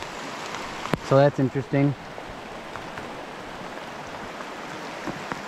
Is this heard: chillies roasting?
no